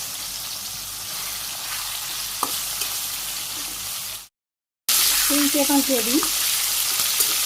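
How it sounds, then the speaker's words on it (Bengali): Chicken pieces frying in hot oil in a village kitchen, a dense continuous sizzle that cuts out briefly, then returns louder as more meat goes in, with a short spoken remark over it. "তো এই তেলে আমি সবটা মাংসটাকে ভাজি করে নিই, বেশ লাল লাল করে দিয়ে নিই"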